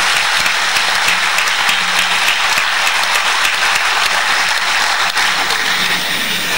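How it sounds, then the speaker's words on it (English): A large audience at a 2019 graduation ceremony of the Father Muller Charitable Institutions breaks into loud, sustained applause, a dense wall of clapping that fills the hall without pause. "you deserve a loud applause for yourself"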